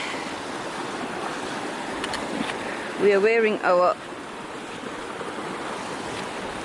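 Creek water flows with a steady, even rush at a stream crossing on the Pacific Crest Trail, with a brief moment of talk partway through.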